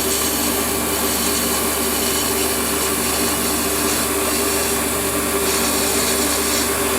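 A WARCO WM180 lathe runs steadily as a high-speed steel tool parts off a small steel hexagon piece, giving a continuous, even machining hum with a scraping edge and no voices.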